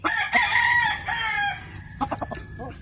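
Backyard chickens cluck in short bursts while a rooster crows loudly and close by, its long call stretching through the first part before broken clucks and calls follow.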